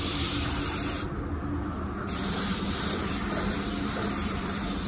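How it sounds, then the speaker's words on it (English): A car paint spray gun lays down a second coat in a steady, loud, continuous airy hiss, briefly softening for a moment, then holding even with no talking. "Let's lay this second coat."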